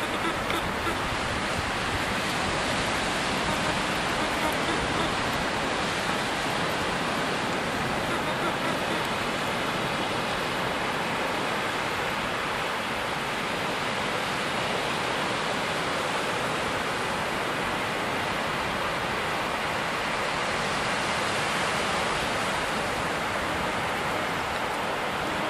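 Surf breaks along the shore at Joss Bay near Broadstairs on the Kent coast, a steady broad wash of waves with some wind, continuous and fairly loud, with no voices.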